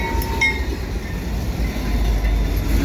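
A CN unit freight train hauling old grain cars rumbles past at close range in winter, a steady low roll of wheels on rail with faint metallic clicks and squeals through the short stretch.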